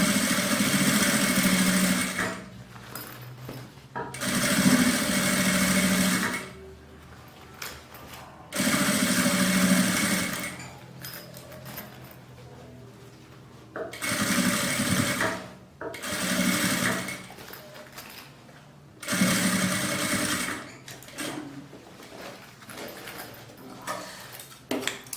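A sewing machine runs in repeated bursts while stitching a seam all the way around a double toiletry bag, each run a few seconds long with short pauses between, steady and fairly close.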